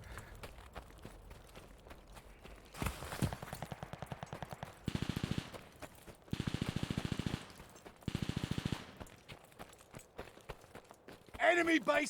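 Bursts of automatic gunfire in the Call of Duty Vanguard Arms Race mode, several rapid volleys of a few seconds each with pauses between, mixed with footsteps and game noise.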